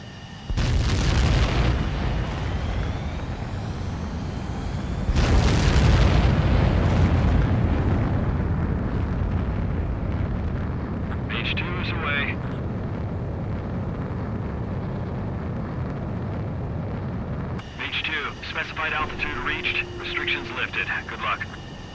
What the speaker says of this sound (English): Begin takeoff sequence.